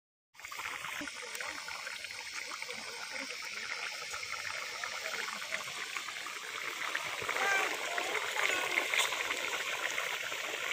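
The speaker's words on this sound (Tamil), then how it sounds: "பாருங்க இப்ப காடை நல்லா கொதிச்சுக்கிட்டு இருக்குது." Quail gravy simmering in a pot with added water, giving a steady close bubbling and fizzing hiss that holds constant for about ten seconds and swells slightly toward the end, with no talking over it.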